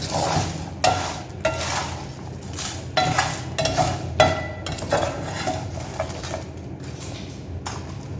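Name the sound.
stirring roasting cumin and fennel seeds in a pan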